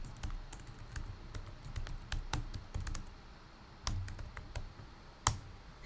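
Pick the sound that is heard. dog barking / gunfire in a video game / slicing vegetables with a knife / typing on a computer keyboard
typing on a computer keyboard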